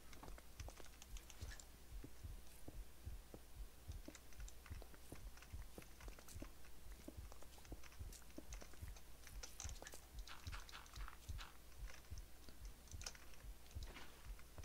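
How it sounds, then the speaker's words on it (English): A pounding low-health heartbeat in a modded Minecraft game, with steady, even low thumps that repeat throughout and are joined by scattered clicky taps. "Because I'm almost dead, you can hear my heart pounding."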